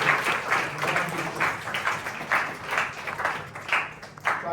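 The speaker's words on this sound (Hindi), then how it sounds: "तो कलीसिया इन नव बपतिस्मा प्राप्त विश्वासियों को ताली बजाकर स्वागत करें।" A church congregation claps to welcome newly baptized believers at a Corpus Christi celebration, with steady, dense applause that swells and dips in waves throughout and no voices over it.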